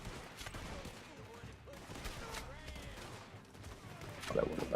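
Gunfire while clearing a hideout in the online western game Red Dead Online, quick sharp shots and fusillades popping at moderate level over game sounds, with a voice speaking.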